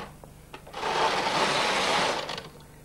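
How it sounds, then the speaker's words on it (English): Carriage of a Brother knitting machine pushed across the needle bed, giving a single sustained mechanical whirring rasp lasting about a second and a half, close with no talk. "Turn the change knob on the carriage and take the carriage across to select your needles."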